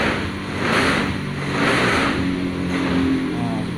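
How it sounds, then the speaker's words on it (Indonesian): A Honda Scoopy scooter engine revved gently at night, with several moderate throttle swells rising and falling over a steady idle, fairly close. "Saya akan gas."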